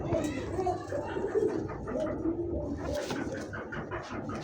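Pigeons in a loft give soft, repeated cooing calls, with several birds overlapping close by while someone talks over them.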